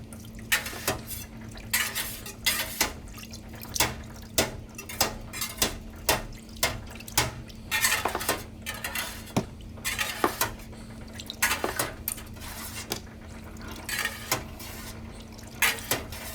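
A bloom whisk stirs Colby Jack cheese curds in a rectangular pot: a run of rhythmic swishing, scraping strokes with light metallic clinks, each stroke distinct and fairly close, without talk.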